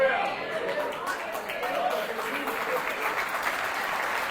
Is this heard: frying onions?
no